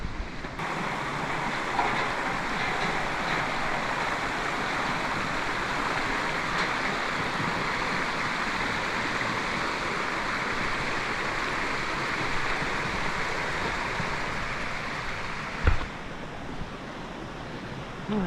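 A river flows beside a hiking trail in the Panama highlands, producing a steady, full rush of water that continues evenly from start to finish, with a single brief knock near the end.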